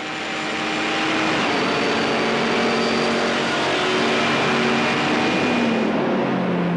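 Race cars at the start of a Belcar race at Spa, including Porsches and a Viper, a dense wall of engine roar that swells as the pack accelerates away, loud and sustained.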